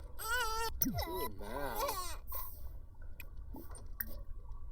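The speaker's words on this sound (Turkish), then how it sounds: "Çocuğun ağlıyor." An infant cries in a baby-care doctor video game, with two or three rising and falling wails over about two seconds, then quieter game background sounds.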